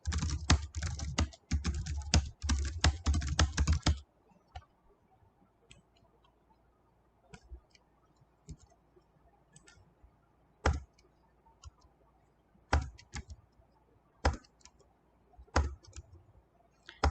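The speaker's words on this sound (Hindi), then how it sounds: "अब मुझे कुछ टाइप करना है, तो ये देखिए, ऐसे ही रैंडम कुछ भी टाइप कर लेते हैं।" Random text typed quickly on a computer keyboard, a dense close burst of clicking keys for a few seconds, then quiet with sparse single clicks, no talking.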